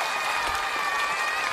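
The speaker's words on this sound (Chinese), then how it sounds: "杨小喵， 掌声欢迎。" A studio audience claps to welcome guests onto a stage, a dense continuous round of applause with a faint high tone running beneath.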